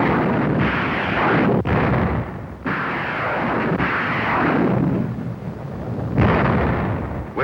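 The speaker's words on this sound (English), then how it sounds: "Destroyers open up. Rockets take it from there." Naval destroyer guns and a rocket barrage hit North Korean-held shore positions near Wolmi Island in Korean War documentary footage: a loud, continuous rumble broken by several heavy booming blasts.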